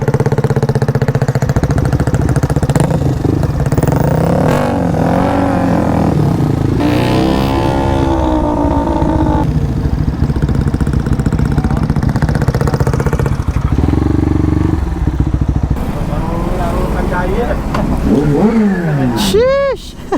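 A Kawasaki ZH2 big bike engine runs loud and close throughout, with rising and falling revs, while people talk and shout over it.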